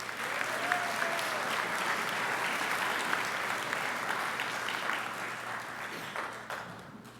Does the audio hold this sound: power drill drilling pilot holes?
no